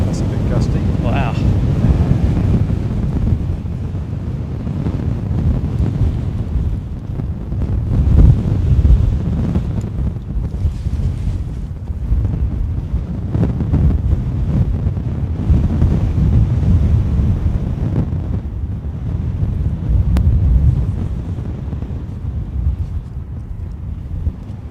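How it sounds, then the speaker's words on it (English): Gusty storm wind at Gatwick Airport during Storm Bert buffeting an outdoor microphone, a loud low rumbling roar that swells and eases in waves, with a person talking briefly under it. "Oh, that's a bit gusty."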